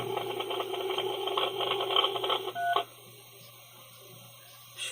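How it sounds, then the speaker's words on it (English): Telephone dialing tones sound as a rapid, dense run of beeping keypad tones over a steady line hum for about three seconds. The line then falls quiet except for faint background noise. "Wow, listen to the phone."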